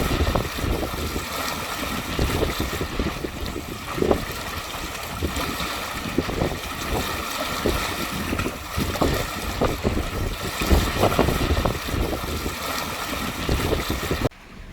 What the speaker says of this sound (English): enough to douse the engines and start sailing